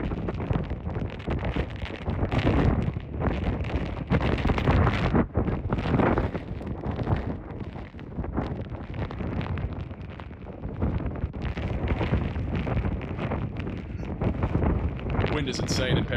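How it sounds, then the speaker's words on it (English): Strong hurricane wind from Hurricane Helene in Perry, Florida, roaring and buffeting a microphone in continuous loud gusts that never let up. "The wind is insane in Perry."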